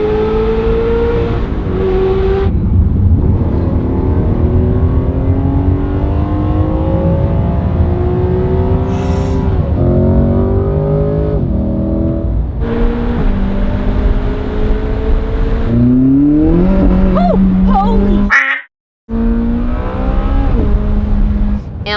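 Lamborghini Gallardo Superleggera engine pulling hard under acceleration from inside the car, a loud continuous drone that climbs in pitch through repeated gear changes, with a brief silent dropout near the end.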